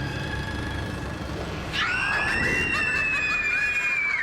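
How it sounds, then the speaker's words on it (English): A little girl's high scream rises abruptly and holds, shrill and sustained, from a TV show soundtrack over a dense background of noise and murmur. "the little girls might be screaming, but they don't even look scared in the slightest"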